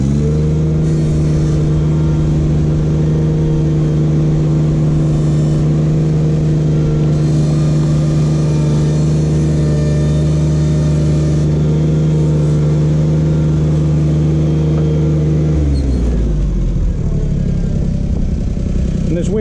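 A Ventrac machine's engine drones loudly and steadily while it lifts a weight, then the pitch drops near the end as the load changes or the engine eases off.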